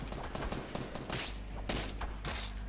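Shotgun fire in the video game Fortnite, several loud booming blasts in quick succession among dense, chaotic battle noise.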